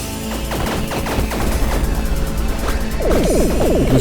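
Front-facing cannon aboard a craft in the video game Fission Superstar X, firing rapid repeated sharp blasts mixed with crashing impacts, loud and continuous over a background of game music.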